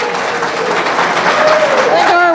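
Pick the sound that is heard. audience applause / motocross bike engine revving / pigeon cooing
audience applause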